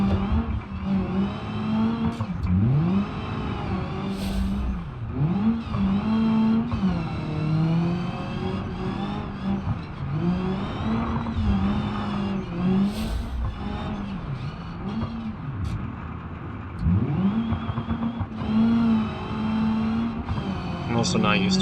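Car engine in the BeamNG.drive video game on West Coast USA, a short-geared car revving steadily through the whole stretch with rising and falling pitch sweeps as it shifts, loud and continuous beneath someone talking.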